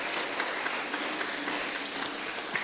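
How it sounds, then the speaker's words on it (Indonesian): Steady applause from a church audience at an HKBP Christmas youth event fills the space: dense, continuous clapping of many hands, even in loudness throughout, with no speech over it. "Tepuk tangan dulu Tamarunang"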